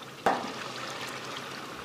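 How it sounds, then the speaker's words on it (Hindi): Hot water is poured into a pot of cooking mutton curry made with whole spices. A sudden splash at the start gives way to a steady, soft pouring stream that lasts under two seconds. "पकाने से पहले मैं डाल रहा हूँ गर्म पानी"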